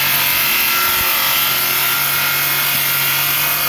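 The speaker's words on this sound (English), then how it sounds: "Nice smooth cut, 4 sheets plywood" Ryobi track saw slicing through four stacked sheets of plywood, a loud, steady whine and rushing cut that holds constant throughout, up close with no talk.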